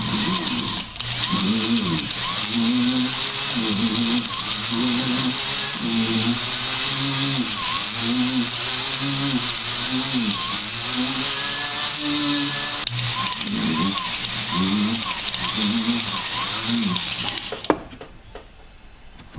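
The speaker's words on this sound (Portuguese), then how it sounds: "Agora aqui eu vou colocar o mandril de lixa. Começo gastando em cima de onde eu aumentei, aonde está mais grosso." A rotary tool spins a sanding mandrel against a half-eternity ring, a steady high whine with a rhythmic wavering grind as the metal is worked. It runs loud and close for most of the stretch, then cuts off near the end.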